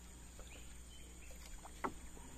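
Small boat paddled along a black-water river, with quiet soft splashes and a brief louder dip against a steady low hum.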